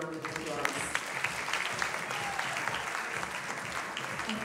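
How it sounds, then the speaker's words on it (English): Audience applause for the Miss Barbados World 2014 pageant contestants, a steady dense wash of many hands clapping at moderate volume that runs through the whole moment, with voices mixed in underneath. "you should give all of these ladies a round of applause."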